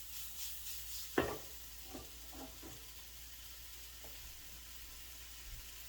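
Food sizzling quietly in a pan, with a sharp clink of a utensil early on and a few soft stirring scrapes over a low, steady fry.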